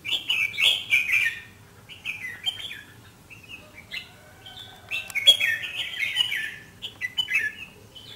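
Loud, close song of a red-whiskered bulbul, repeated short warbling phrases with brief gaps between them over a low background rumble.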